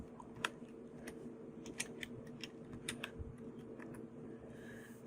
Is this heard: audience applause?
no